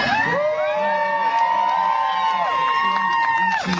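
A crowd at the 2009 Boston Tea Party rally in Christopher Columbus Park cheers and whoops loudly and continuously, with sustained shouted voices and a high tonal whistle or horn-like call above the roar.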